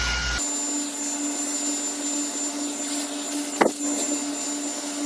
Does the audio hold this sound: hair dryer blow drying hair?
yes